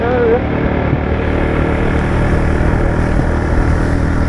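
A motorcycle engine runs steadily and loudly up close, its rough drone continuous throughout, with a voice talking over it.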